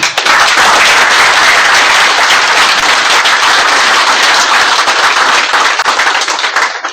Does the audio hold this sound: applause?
yes